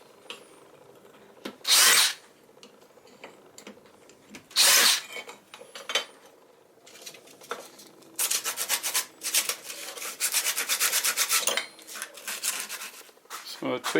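A drill bores a hole through a folded aluminium bracket, starting with a few short, loud metallic bursts and then settling into longer stretches of harsh, grinding cutting close to the listener.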